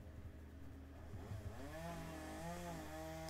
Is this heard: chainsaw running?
yes